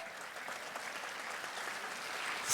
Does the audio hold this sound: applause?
yes